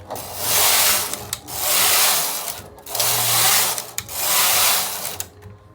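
A single bed knitting machine knits a cap with loud rhythmic carriage passes, each a long swishing, rattling sweep lasting about a second, repeated back and forth roughly four times with brief clicks between strokes.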